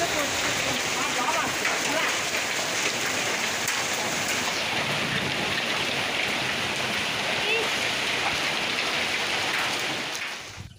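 Heavy hail and rain pour down during a storm in a South Bengal village, a dense, steady hiss of drops and pellets hitting surfaces close by, continuous and loud until it eases at the very end.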